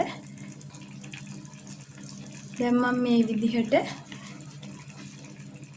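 Thick coconut milk pours into a curry pot of lotus root curry in a home kitchen, a short liquid splash lasting about a second, with a person speaking quietly around it.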